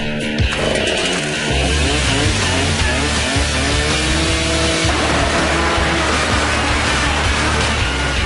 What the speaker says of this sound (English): If Jamie can start the chainsaw.